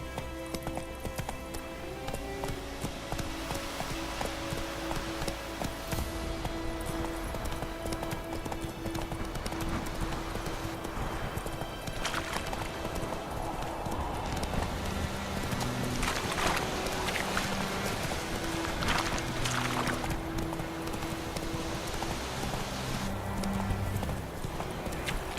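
Roach the horse gallops in The Witcher 3, hooves clip-clopping in a steady, loud, continuous rhythm with an occasional whinny over a faint music bed, with no talk.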